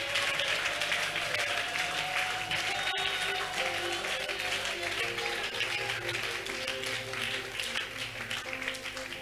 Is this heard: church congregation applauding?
yes